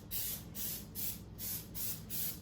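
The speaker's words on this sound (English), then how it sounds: "And I spray the print and not the shirt." Adhesive spray aerosol misting onto a sublimation print for an all-over shirt, five evenly spaced hissing bursts of about a third of a second each, close and fairly soft.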